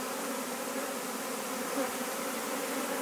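Honey bees at a hive in Denmark hum in a steady, dense drone, constant and close, with no voices over it.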